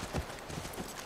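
Horse hooves clip-clop in the video game The Last of Us Part 1, a few soft, quick hoofbeats at low volume over a muted background, with no talk.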